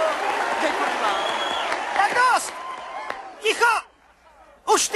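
Live comedy audience applauds and whoops in bursts between laughs, with wide, fairly near clapping that swells, cuts off abruptly, then returns in short loud surges.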